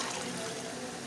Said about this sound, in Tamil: வதக்கி விட்டு இந்த குடல் வேக வச்ச தண்ணியை அதில் ஊற்றிக்குவோம்